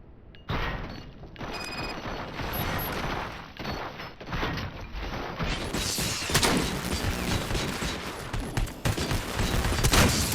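Rapid gunfire from a video game, a dense run of loud overlapping shots with clattering mechanical noise that builds and continues across the stretch, with no talk.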